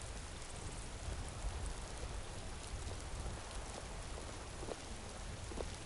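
Rain in the video game Skyrim, a faint, steady hiss of falling rain with scattered soft drops, continuous and without speech.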